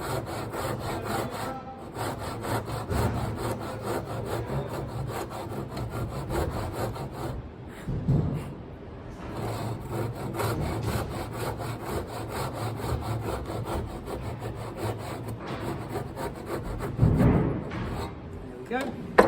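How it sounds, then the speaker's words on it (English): A hand saw works through wood for a halving dovetail joint in steady, rhythmic back-and-forth strokes, fairly quiet and close, with a brief pause partway and a few slower final strokes near the end. "Listen for the saw. It will start to make a different noise as you're almost through."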